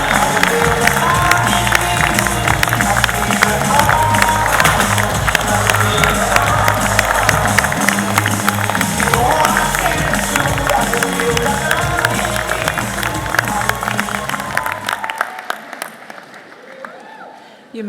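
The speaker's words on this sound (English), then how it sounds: "Everyone, please join me in a worthy round of applause." A large audience at a Massey University graduation ceremony in Manawatū gives loud, sustained applause with some cheering, which fades out near the end.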